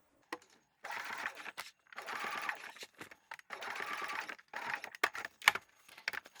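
A sewing machine bastes a binding of waterproof canvas in four or five close bursts of rapid stitching, separated by short pauses, with a few sharp clicks from handling the fabric.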